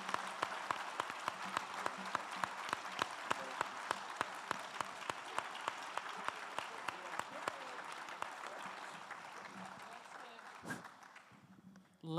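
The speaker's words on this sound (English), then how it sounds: "Let's give this panel a wonderful round of applause." Audience applause for a panel at an event, with rhythmic, fairly soft clapping that holds steady and then thins out toward the end, heard at a distance.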